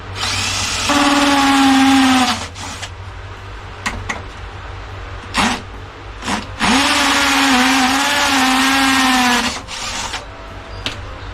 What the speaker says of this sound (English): I'll have to drill a couple holes in the board